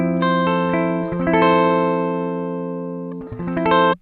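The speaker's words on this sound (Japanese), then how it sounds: "バイパスの音はこんな感じです。 ギブソン ES335 のミックスポジションです。" A Gibson ES335 electric guitar in the mix pickup position, recorded with a dry bypass tone through a preamp line out, plays a few clean picked notes and chords that ring and sustain, close and clear.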